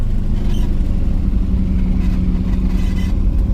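A 1978 Datsun B210 engine idles high and steady, a close, continuous low mechanical hum with no talk.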